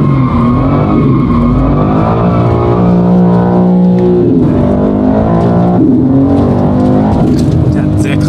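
A BMW M4 CSL engine accelerating hard on a race track, loud and close with a rising, strained exhaust note through repeated gear changes, and an excited voice talking over it.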